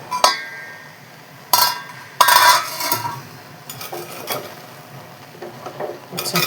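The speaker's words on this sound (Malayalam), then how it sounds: "നമുക്കിതിൻ്റെ അടപ്പൊന്ന് തുറന്ന് നോക്കാം." A metal lid clanks and scrapes as it is lifted from a pot of cooked jackfruit for Kerala chakka puzhukku, with several sharp clinks and rattles of metal cookware close by and no talking.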